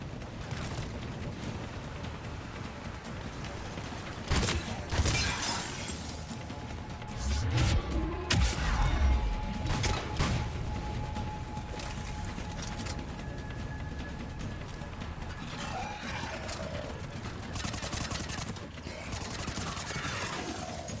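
Combat gunfire in the action game Mass Effect 3, with scattered loud shots and crashing impacts across a steady din of battle, swelling in the middle and easing toward the end.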